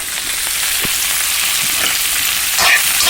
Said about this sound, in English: And I'm just sauteing it a bit